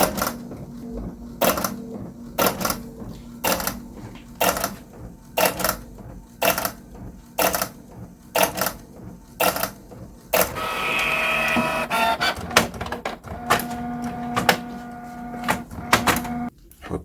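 A photo printer feeds and prints on photo paper, producing a rapid series of rhythmic mechanical clacks and carriage passes, then a smoother whirring stretch and more repeated clicks, loud and close.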